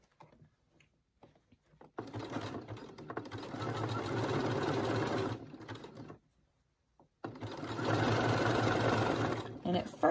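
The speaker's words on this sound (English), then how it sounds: "I like to sew from the bottom so I can catch the edge of the seam allowance." A sewing machine stitches a swimsuit ruffle seam in two sustained whirring runs, close and steady, separated by a pause of near silence, with faint activity before it starts.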